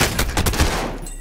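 Rapid bursts of gunfire in the battle-royale shooter Warzone, loud and close, with a dense fusillade of repeated shots that tails off toward the end, no talking.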